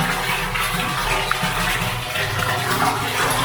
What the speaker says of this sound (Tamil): இது கீழே அழுத்தினா சைடில் தண்ணி வருது